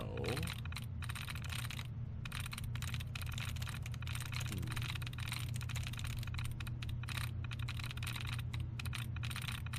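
Rapid, steady typing on a terminal keyboard while hacking in Fallout 4, dense clicky keystrokes running continuously over a low droning game background, close and even in level, with no talking.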